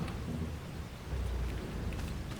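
Steady rain in a farming video game, a dense wash of hiss with low rumbling underneath, continuous and fairly close throughout, with no talking.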